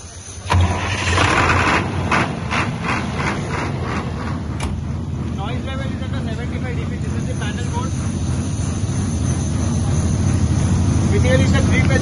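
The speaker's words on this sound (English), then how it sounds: "I'll start the generator and I'll show you." A 100 kVA three-phase generator set cranks and fires up, then settles into a loud, steady diesel-like running drone that holds close and constant with someone talking over it.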